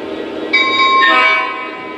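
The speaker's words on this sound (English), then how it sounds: "it gives you 2 bells and a short horn blast" Sound from an SD40-2 model locomotive: a short horn blast sounds in the middle of a two-second stretch of steady rail-engine noise, up close and without speech.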